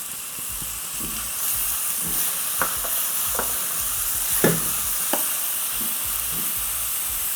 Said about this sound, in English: So sauteing these aromatics, the onion, the ginger, the garlic